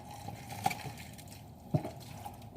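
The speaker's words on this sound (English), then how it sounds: "Pour it in there for me. Don't spill it. Just let it pour." Broth pours from a carton into a cooking pot, a quiet steady liquid trickle with a couple of soft splashes and glugs, close by and without speech.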